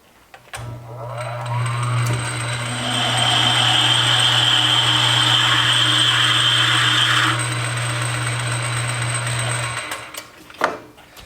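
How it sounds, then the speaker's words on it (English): A steady whirring lathe motor runs for several seconds with a high-pitched drilling whine on top as a drill bit in the lathe drills out a part for a 1950s dragster, then winds down to quiet clicks. "I already have my drill bit in the lathe already, so it just kind of makes sense to drill it out now"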